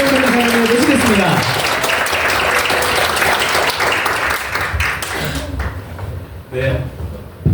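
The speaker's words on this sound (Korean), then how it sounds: "우리 큰 박수로 조규형 변리사님을 모시겠습니다." Audience applause welcoming a patent attorney onto the stage at a youth motivational lecture event, loud and sustained for about five seconds before fading into quieter room sounds.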